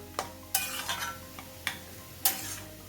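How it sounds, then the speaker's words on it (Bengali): A bottle gourd curry being stirred in a pan, with a handful of separate scrapes and clinks of the spoon against the pan at irregular intervals over a quiet cooking background. "ভালো করে আবার মিশিয়ে দিচ্ছি"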